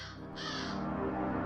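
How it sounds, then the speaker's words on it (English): A raven perched atop gallows in an old Galician hanging field gives a harsh, drawn-out croak, rough and close, rising out of a low dark ambience. "Raven croaked from atop the gallows, ruffling his feathers"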